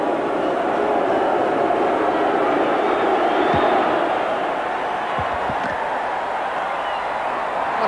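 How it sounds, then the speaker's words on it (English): A rugby league test crowd boos at a kick at goal, a broad sustained roar of many voices filling the stadium. It stays loud and continuous throughout, with a few faint thumps underneath. "Already the crowd starting to boo."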